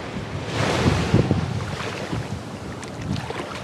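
Waves wash onto a white-sand beach by a parasol, a broad surging rush with wind buffeting the microphone, one swell building and breaking in the first seconds and then easing into a steady hiss.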